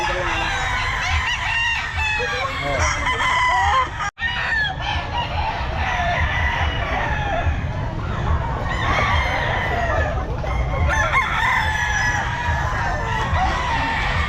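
A rooster crows loudly and repeatedly at a busy pet market, with clucking chickens and a murmuring crowd in the background.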